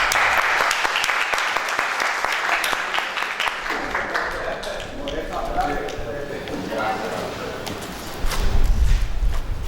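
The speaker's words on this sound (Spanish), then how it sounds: "Un aplauso para..." Audience at a traditional vallenato music gathering breaks into sustained applause, many hands clapping densely and fairly close, with a speaker's voice heard over the clapping near the end.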